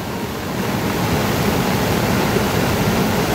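The swollen Sardu river rushing in a monsoon flood, a loud, continuous roar of churning water with no break and no voices.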